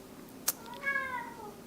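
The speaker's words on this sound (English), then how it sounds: "That's my cat. She's saying hi." A pet cat gives a single clear, drawn-out meow at close range, preceded by a brief click, in an otherwise quiet room.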